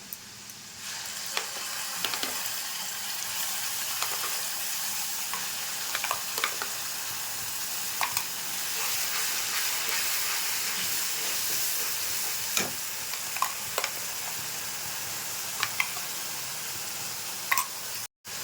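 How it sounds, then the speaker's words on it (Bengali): Onions and a turmeric spice paste sizzle steadily in hot oil for a Bengali fish curry with potatoes, with occasional scrapes and taps of a spoon stirring the pan; continuous close frying hiss with no talking. "একটু পরিমাণ মতো হলুদ দিয়ে দিচ্ছি এবার পেস্ট করা মশলাটা দিয়ে দেবো"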